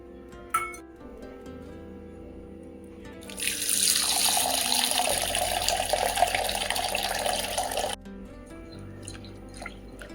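Running water rushes over a bowl of sabudana (tapioca pearls) being washed for khichdi. It is a steady, loud, close splashing that lasts about five seconds and then cuts off sharply.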